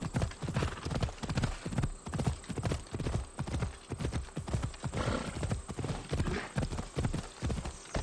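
Horse hooves clip-clop in a steady, repeating gait during a ride in Assassin's Creed Odyssey, the rhythmic thuds fairly close and continuous, with a brief whinny-like cue and no talk.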